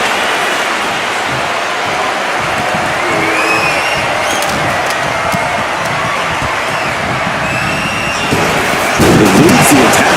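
A virtual arena crowd in the WWE 2K25 wrestling game roars and cheers continuously, loud and dense, with a low rumble building toward the end and a commentator's voice faintly mixed in.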